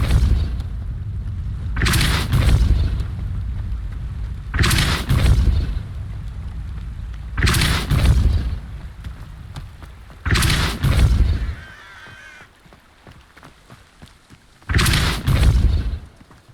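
Spells cast in Hogwarts Legacy, including the Depulso force spell, land as five loud booming blasts spaced a few seconds apart, each with a long rumbling tail, followed by a quieter stretch of faint shimmering effects.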